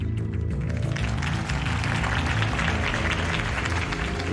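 A crowd applauds after a campaign speech for Harvey Dent in the Batman Telltale game, a dense, steady wash of clapping over low background music.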